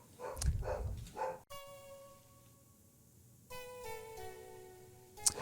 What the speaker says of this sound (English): This episode is brought to you by my barking dog in the background